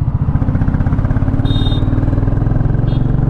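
A 2023 Royal Enfield Bullet 350 single-cylinder motorcycle pulls in first gear, its loud close engine thumping in a fast, even rhythm with a brief faint squeak on top.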